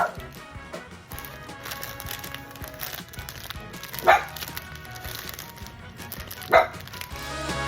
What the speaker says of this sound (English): my dog's about to start barking.